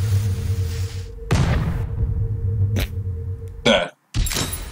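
Cannon blasts in Henry Stickmin Collection, a stickman video game: a loud broadband boom near the start, a sharper shot mid-way and another burst near the end, over steady game music.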